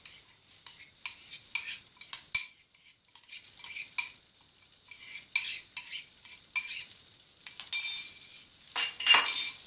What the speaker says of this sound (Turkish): Şimdi içerisine pirincimizi ilave edelim.